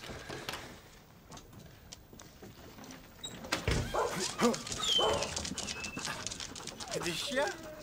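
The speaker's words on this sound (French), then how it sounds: "Des chiens?" Dogs bark and whimper at a distance, a few sharp calls breaking out amid rustling and movement noises, with people speaking over them in the latter half.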